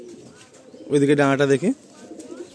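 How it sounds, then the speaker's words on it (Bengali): Colourful Madrasi pigeons in a Kolkata loft give low, murmuring coos that run steadily in the background, while someone speaks briefly and loudly in the middle. "পায়রা খুবই ছটফট ধরে যাচ্ছে।"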